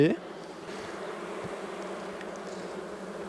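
Honeybees hum in a steady, continuous drone around an open beehive during a frame inspection, the close swarm buzz filling the whole stretch after a brief louder sound at the start.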